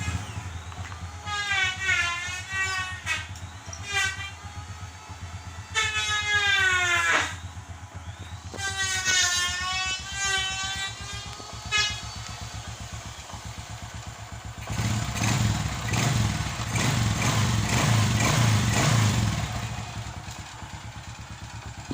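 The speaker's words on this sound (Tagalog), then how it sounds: "paanda rin natin ulit kasi nakabitan natin yung tambutso" Honda XRM 125 motorcycle engine running after an overhaul with a replaced connecting rod and a reattached exhaust, a steady close idle with a rising rev burst and rattling clatter later on, while a high whining tone sweeps up and down through the first half.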